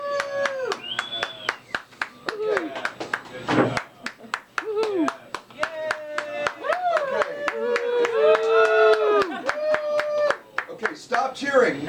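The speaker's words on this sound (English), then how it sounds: "you cheer for them as you wish to cheer for them." An audience claps and cheers in repeated short bursts at a live show, separated by pauses while a presenter speaks between the rounds of applause.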